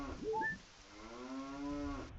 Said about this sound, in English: Oh right, my shoes are also cow noises.